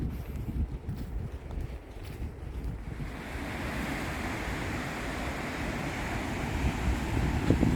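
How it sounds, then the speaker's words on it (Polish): Waves break and wind blows on the beach at Chałupy on the Hel Peninsula, a broad continuous roar of surf with heavy wind buffeting the microphone that grows fuller and steadier partway through. "No to prawie już jesteśmy na plaży w chałupach."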